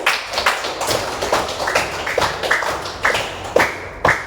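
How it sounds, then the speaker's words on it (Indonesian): A class claps hands in a school lesson, with loose, uneven claps and sharp taps rising out of a steady bed of hand noise, close and fairly loud, with no talking. "Yuk, tepuk tangan dulu."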